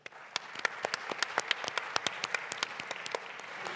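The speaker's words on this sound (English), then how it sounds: "Round of applause, please." Audience applause greets a panelist's introduction at a talk on disorganized students, steady sparse clapping from a modest crowd for about four seconds with no voices.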